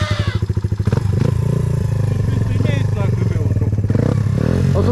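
A KTM motorcycle engine idles and pulses with a low, rapid thumping while the bike is leaned and maneuvered at close range. Someone talks over the steady running engine.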